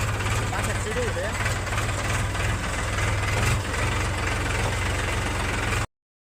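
A farm tractor engine idles with a steady low, knocking throb for about six seconds, close and fairly loud, then cuts off abruptly, with a voice briefly heard over it.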